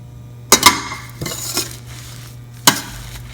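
A spoon stirring fennel seeds and melting sugar in a pan over low simmering heat for rose petal jam: a few sharp metallic scrapes and clinks at irregular intervals over a quiet background hum.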